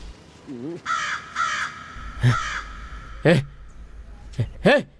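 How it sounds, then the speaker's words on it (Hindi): A crow caws several times in short harsh bursts, loud and close, interleaved with a man's agitated speech in a dubbed Hindi film scene. "ए कौवे, काले कौवे कहीं के, सब तेरी वजह से हुआ है।"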